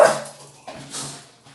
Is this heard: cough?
no